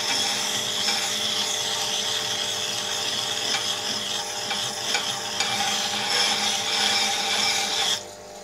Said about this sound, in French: J'exploite mon touret à meuler à eau, je l'exploite au maximum.